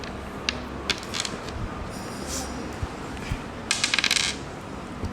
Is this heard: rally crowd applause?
no